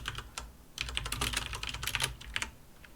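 Rapid computer keyboard typing while code is entered, a dense run of close, crisp key clicks with brief pauses and no voice over it.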